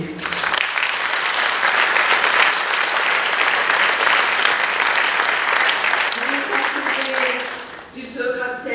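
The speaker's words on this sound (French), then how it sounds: "On peut les applaudir." Loud, sustained audience applause fills the hall for the full stretch, a dense wash of clapping that tapers slightly near the end as a voice begins to speak.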